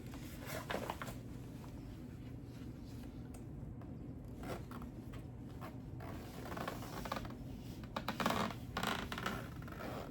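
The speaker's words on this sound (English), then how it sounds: "I'll zip that up." Zipper on a full-leg compression therapy boot being drawn up, a faint scratchy ratcheting rasp in several stretches with small rustles and clicks in between, quiet and close.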